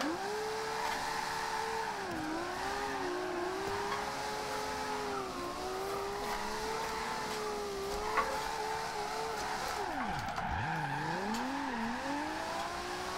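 A Nissan Skyline R32 drifting in Forza Horizon 2, the engine whining and bouncing with rev swings as the tires spin, a deep dip and surge near the end, loud and close throughout.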